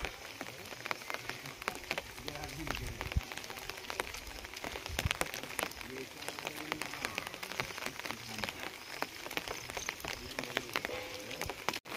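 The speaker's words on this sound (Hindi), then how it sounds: "आज का मौसम हल्की हल्की बारिश के साथ" Light rain falls on a village road near a bridge on an evening during the first monsoon showers, a steady, close patter of drops with scattered sharper taps, continuous and fairly faint, with no talking.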